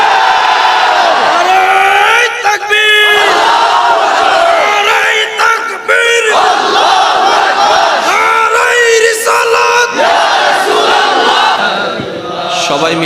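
A large crowd at an Islamic religious gathering in Bangladesh roars a loud, sustained chant of Allahu Akbar in answer to a takbir call, many voices blending into a dense, continuous swell with shouts rising above.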